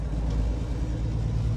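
A custom Kenworth truck, just back from transmission repairs, rolls down the road with a deep, steady engine rumble heard close up in one brief, unbroken burst.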